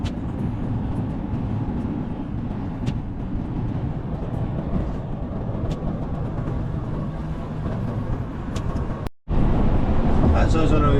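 A truck travelling along a motorway gives a steady, close low road rumble and engine drone that runs unbroken, cutting out briefly near the end before returning just as loud.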